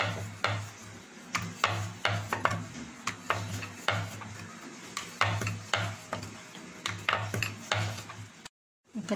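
Dough balls rolled thin with a rolling pin on a wooden board, a faint repeated rubbing and knocking rhythm of back-and-forth strokes, close and quiet, continuing steadily until a brief silence near the end.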